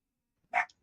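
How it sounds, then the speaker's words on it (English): A small dog, like a poodle, gives one short, sharp yap, faint and a little distant, alone against silence. "I can hear your dog barking"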